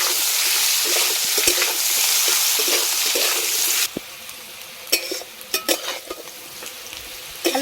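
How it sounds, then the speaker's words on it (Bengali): Cubed potatoes fry in a pan with salt and turmeric, giving a dense sizzle for several seconds, then quieter, sparser crackles and spatula scrapes as the frying eases. "আলু লাল লাল করে ভেজে নিয়েছি"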